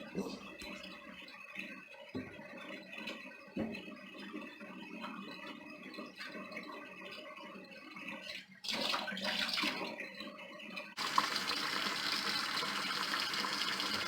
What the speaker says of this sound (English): Take some water, put it on those fillets, keep them fresh.